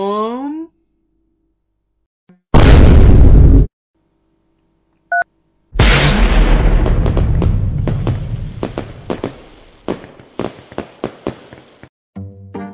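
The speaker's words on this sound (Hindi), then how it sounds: "Atom bomb." Atom bomb firecrackers going off at Diwali: a loud, sharp blast lasting about a second, then a second heavy bang followed by a long run of crackling pops that thin out and fade.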